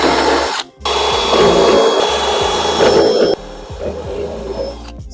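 A power drill bores out mounting holes in a carbon fiber widebody kit panel for a 2022 Tesla Model X Plaid, a loud, close, continuous whine with a brief stop early on and a quieter final stretch.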